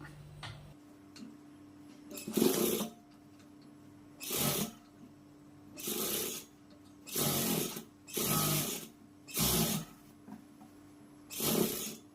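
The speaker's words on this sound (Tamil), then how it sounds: "நேராக வந்து தையல் போட்டுக்கலாம்" A sewing machine stitching blouse cloth, running in about seven short, loud bursts of rapid mechanical whirring separated by quiet pauses, close by.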